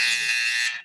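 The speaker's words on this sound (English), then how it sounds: "I will play a buzzer" A single electronic buzzer sounded as a time-up signal, a loud steady harsh tone lasting under a second before cutting off.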